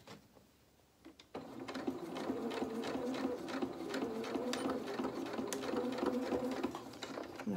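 A sewing machine stitching a doll's T-shirt dress, starting after a brief pause and then running in a fast, even mechanical whir up close.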